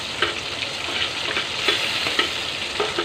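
Chopped onions frying in hot oil with cumin and curry leaves for a fish curry, a steady close sizzle with occasional stirring scrapes, no voices.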